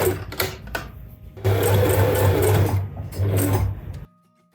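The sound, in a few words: sewing machine stitching muslin seam allowance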